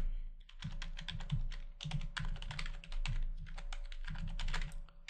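An email address is typed on a computer keyboard in steady bursts of quick, close key clicks, with short pauses between runs and a faint constant hum underneath.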